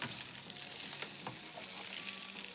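Food frying in a hot pan, a steady close sizzle and crackle with small pops, no talk over it.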